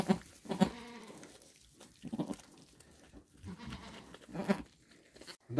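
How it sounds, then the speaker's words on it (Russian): A newborn goat kid bleats on a farm in several short, quiet cries spread over a few seconds, with soft rustling noise between them and no speech. "Только вылупился, уже мычит."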